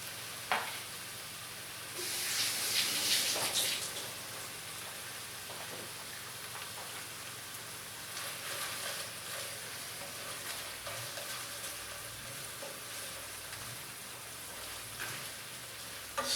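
Two good-sized lobster tails and onion fry in a pan with a soft, steady sizzle, swelling louder for a moment as they go in, then settling into a quieter crackle with scattered pops.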